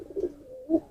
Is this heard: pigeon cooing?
yes